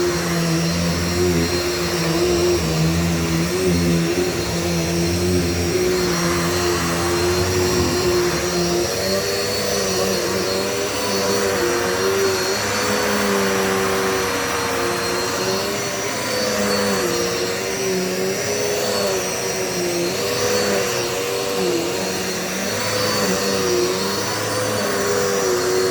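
A Dirt Devil multisurface vacuum cleaner runs continuously on a rug, a loud, steady motor whine with slight wavering as it is pushed back and forth, and no voices.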